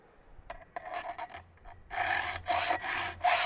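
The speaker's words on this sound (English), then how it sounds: "I haven't done a lot of round filing lately." A round file rasps against a chainsaw chain out in the field, first in short light strokes, then in longer, louder rhythmic scraping passes close by.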